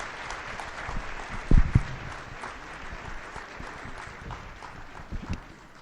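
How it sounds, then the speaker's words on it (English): Audience applause at a Capitol Hill event, a dense patter of clapping hands lasting several seconds with a few louder claps standing out, moderately near and unaccompanied by talk. "please give them all a round of applause for being here with us today."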